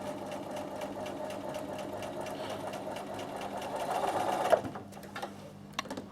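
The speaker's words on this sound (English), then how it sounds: "I'm doing another row of straight sewing exactly beside, I keep using that word, right beside the row of stitching I've already done." Bernina sewing machine running a row of straight stitching, a steady rapid mechanical whirr with a fast needle clatter that stops near the end, followed by a couple of small clicks.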